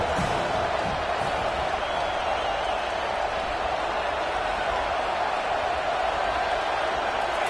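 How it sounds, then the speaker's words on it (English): A football stadium crowd rises and cheers on third down, a broad, sustained roar of many voices with scattered clapping, loud and continuous without letting up. "And the crowd starting to rise up on this early 3rd and"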